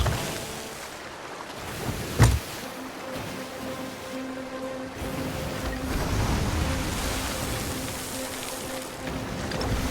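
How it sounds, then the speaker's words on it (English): Rolling ocean waves in Sea of Thieves on Xbox Series X, a steady roar of surf and wind around a sailing ship, with one sharp knock near the start and no talk. "Jeez, these waves, man."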